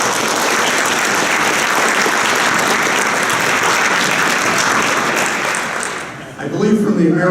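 Loud, steady applause fills a room at a naturalization ceremony, holding evenly for about six seconds before tapering off as a voice starts speaking.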